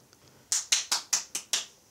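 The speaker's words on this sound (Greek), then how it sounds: "Χειροκροτήματα να πω στο background." Hand claps in a quiet indoor room: six sharp, crisp claps in an even, brisk rhythm, fairly close and clear against near silence.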